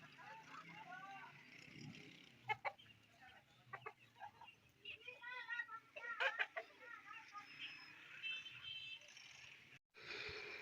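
Chickens and roosters wander in the sun at a village home, giving scattered clucks and short calls at mid distance, mixed with other background sounds and some voices.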